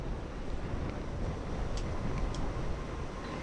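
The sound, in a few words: strong wind blowing on microphone outdoors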